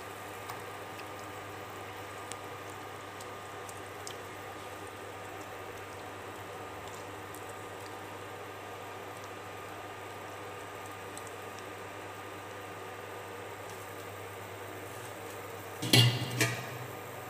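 Water simmers quietly in a pan with a drumstick vegetable fry, a soft continuous bubbling hiss, with a brief clatter near the end.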